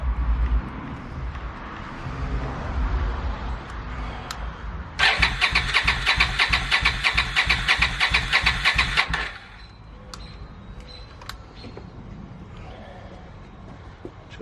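A Suzuki Marauder 800 motorcycle engine is started after clutch work and runs roughly for a few seconds with rapid even firing, then chokes out and dies, leaving a quieter workshop.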